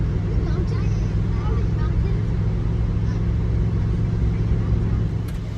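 A car climbs a mountain road on the way to a campground, its engine and road noise a loud, steady, unbroken drone from inside the cabin.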